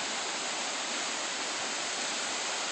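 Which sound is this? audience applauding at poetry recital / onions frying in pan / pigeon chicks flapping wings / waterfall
waterfall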